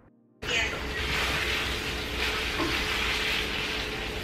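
Cheese frying over lower heat in an 8- or 9-inch skillet for keto sopes gives a steady, close, loud sizzle that begins abruptly after a short quiet start and continues without letup.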